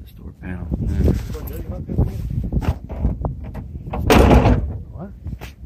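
Car door panel on a third-generation F-body at a junkyard being handled, with repeated thumps, rattles and a sharp metallic bang near the end, close by and mixed with people talking.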